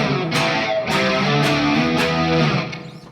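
A 1975 Ibanez Les Paul Custom copy with a Super Distortion bridge pickup rings out heavily distorted, sustained chords struck several times in a loud, dense wall of overdriven tone that fades at the end, with no voices.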